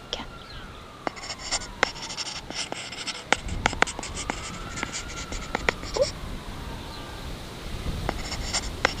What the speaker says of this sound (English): Let me write that down again.